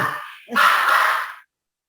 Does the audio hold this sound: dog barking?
yes